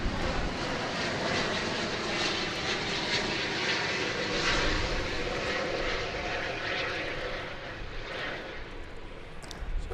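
A oneworld-liveried airliner at DFW rumbles with a steady, fairly distant jet engine roar that holds throughout without clear breaks.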